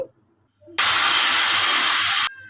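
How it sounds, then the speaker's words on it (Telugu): Steam from a pressure cooker cooking carrot chicken curry bursts out in a single loud, sharp hiss that lasts about a second and a half, then cuts off abruptly into near silence. "టూ విజిల్స్ వచ్చేసాయి"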